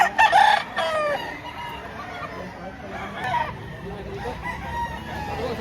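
At a poultry market in Lipa, Batangas, roosters crow and hens cluck close by, with a loud crow at the start and further calls through the stretch over a murmur of people talking.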